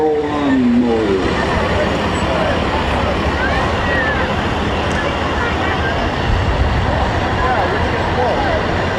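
A Toro lawn mower rolls past in a small-town parade, a steady broadband engine rumble and outdoor noise that stays loud throughout, with a voice heard briefly at the start.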